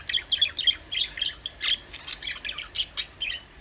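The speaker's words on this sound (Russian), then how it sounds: "Попугаи" Parrots squawking and chirping in a pet shop, a rapid run of shrill, repeated calls from several birds, fairly close and busy with no voices over them.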